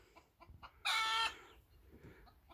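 A Sussex hen gives a loud, close burst of clucking lasting about half a second, with softer scratchy sounds and faint clucks before and after.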